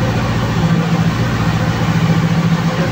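An engine held at wide open throttle at low RPM during a remap at a tuning shop: a loud, steady, droning hum with a constant low pitch and no break, and no voices over it.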